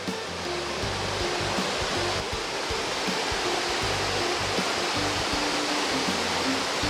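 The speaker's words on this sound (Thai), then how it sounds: "อันนี้คือข้างบนของน้ำตกครับ" Constant loud rush of Saeng Chan Waterfall in Ubon Ratchathani during the rainy season, heard from its top, a dense roaring wash close by, faint low tones underneath, no voices.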